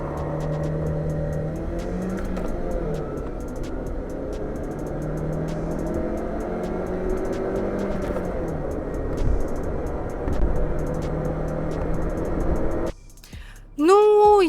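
A 2013 Kia Rio accelerates hard, its engine droning and climbing through repeated gear changes from inside the car, steady and fairly loud, before it suddenly cuts to quieter cabin sound with a brief voice near the end.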